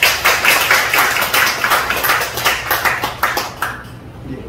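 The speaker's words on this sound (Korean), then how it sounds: "우리 하나님 앞에 영광의 박수 한번 드리겠습니다" A church congregation applauds during a Sunday worship service, a dense wash of many hands clapping loudly and steadily, with a few louder accents, before the applause thins out and fades near the end.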